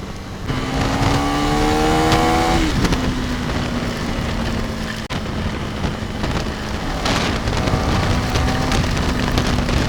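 Steady rain hisses while riding a KTM Duke 390 motorcycle, loud and continuous, with the bike's engine droning and revving underneath, easing off briefly and then picking up again. No one speaks.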